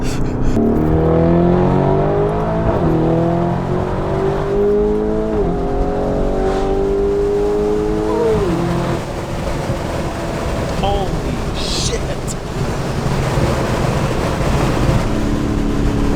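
A loud roar of rushing wind and engine noise inside a fast-moving car with the sunroof open, with the engine pitch rising and falling as it revs. Voices talk over it.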